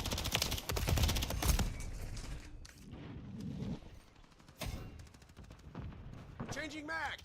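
Rapid gunfire from the video game Modern Warfare III, dense bursts of automatic shots up front, then scattered shots and clatter under a muffled voice.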